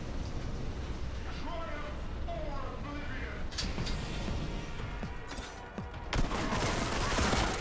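Bolter firing vengeance rounds in Warhammer: Boltgun: dense, rapid bursts of heavy gunfire crackling continuously, swelling into a loud blast near the end, with a voice talking over the shooting.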